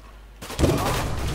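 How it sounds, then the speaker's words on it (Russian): Gunfire in the video game Counter-Strike: Global Offensive, a sudden loud shot that cuts in after a quiet moment and rolls into a dense, sustained burst of firing. "Я выстрелил."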